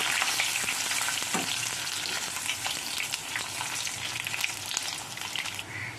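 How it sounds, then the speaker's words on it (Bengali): Eggplant pieces fry lightly in hot oil in a kadai, producing a steady, bright sizzle with fine crackling throughout and no voices. "এবার বেগুনগুলোকে দিয়ে দেবো, এটাকে হালকা ভাজবো।"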